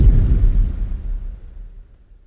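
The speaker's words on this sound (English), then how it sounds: "So you have this explosion thing." Deep cinematic explosion effect from a horror preset in FL Studio, a single loud low boom with a long rumbling tail decaying over two seconds, heard alone.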